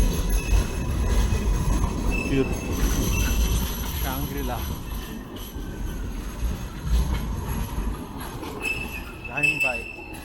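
A train in Sydney rumbles past close by with steady rolling noise and occasional wheel squeals, while people talk briefly over it.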